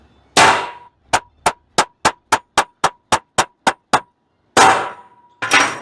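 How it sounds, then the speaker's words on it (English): A hammer strikes a metal punch in a quick, even series of about eleven sharp metallic clangs, close up, framed by louder scraping clanks at the start and end. "we're gonna make lots and lots of punch marks right here."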